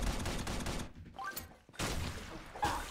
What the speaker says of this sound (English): Oh, I shot him though.